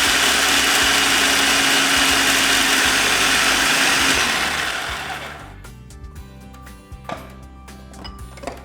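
A food processor grinds freeze-dried blueberries into powder with a loud, steady whirring motor roar for about four seconds, then winds down and falls quiet, leaving scattered faint clatters of the loose fruit settling in the bowl.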